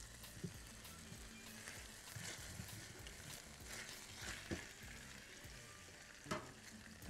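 Beef with garlic sizzles and fries in a pan, a steady crackling hiss broken by occasional scraping and clinks as it is stirred.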